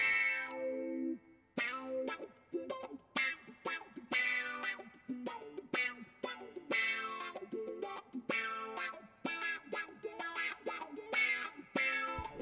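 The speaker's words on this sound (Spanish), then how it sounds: "La G1X On ofrece a los guitarristas de hoy lo que necesitan, incluyendo variadas distorsiones, compresiones, modulaciones, delays, reverb y simulación de amplificadores." Electric guitar runs through a Zoom G1X On multi-effects processor with distortion and delay, a driven, effected phrase of picked chords and notes with echoing tails and brief gaps, played alone without talk.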